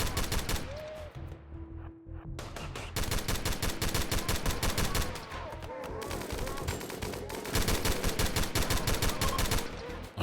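Rapid automatic gunfire in a shooter video game rattles in loud, dense bursts nearly throughout, broken by a short pause early on, with no talk over it.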